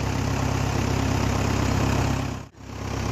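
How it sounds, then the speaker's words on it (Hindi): A tractor hauling sand sits idling, a steady low diesel rumble that holds nearly constant and dips briefly for a moment before resuming, with no talk over it. "किसका ट्रैक्टर है?"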